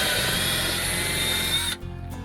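A power drill bores a hole with a loud, steady whirring drone for under two seconds, then spins down abruptly into quieter background.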